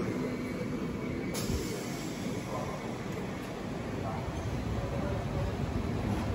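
Passenger train 07523 runs near Samalkot Junction, a steady, moderately loud rolling rumble heard from inside the carriage for the whole stretch.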